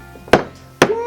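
A toy hammer strikes twice in quick succession, each hit a sharp, close knock with a brief tail, the second slightly louder than the first.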